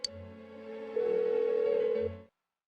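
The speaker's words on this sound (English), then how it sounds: "Why won't she pick up the phone?" A telephone rings unanswered in the video game Persona 4 Golden, a single sustained electronic tone with a short click at the start, steady and clear, then cutting off into silence.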